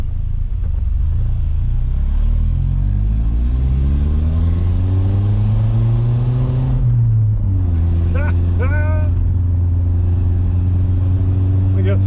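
A car driven hard on a road in Wales: its engine note climbs steadily under acceleration, drops at a gear change, then pulls again. The loud rumble sounds close, and faint voices come through briefly afterward.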